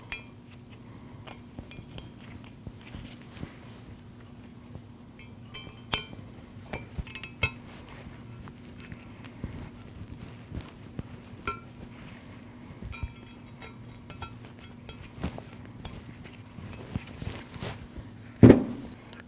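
Metal brake pad clips being fitted onto the rear caliper bracket of a Nissan NV2500 van, with sporadic light metallic clinks and taps and one louder clack near the end.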